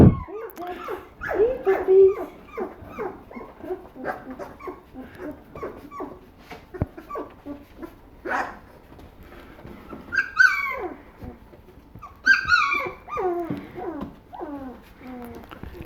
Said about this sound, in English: This little puppy's name is Yogi.